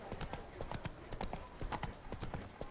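Horse hooves clip-clop in a steady, fairly close walking rhythm while riding in The Witcher 3 video game, with faint game ambience and a little speech-like sound in the background.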